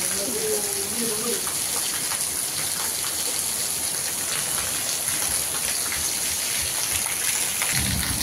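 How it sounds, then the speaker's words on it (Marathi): Heavy rain pours down steadily while water rushes and splashes nearby, a dense continuous roar with a brief voice near the start. "मोटर चालू केल्यासारखं पाणी यायला लागलं."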